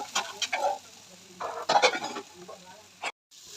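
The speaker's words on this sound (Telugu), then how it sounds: "ఇప్పుడు మనం బాగా తురిమిన క్యారెట్ వేసుకుందాం." Grated carrot sizzles and is stirred in hot ghee in a pan, giving short bursts of crackling frying noise close up, broken by brief pauses.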